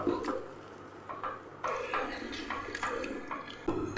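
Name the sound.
mixing rice batter with milk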